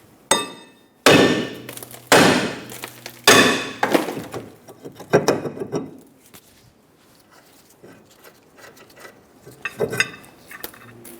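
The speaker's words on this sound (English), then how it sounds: "We're going to tap it with a hammer." A hammer strikes the rear brake rotor on a 2003–2007 Honda Accord, giving loud, ringing metallic blows. The first few hits are spaced and strongest, followed by lighter, irregular taps and clinks.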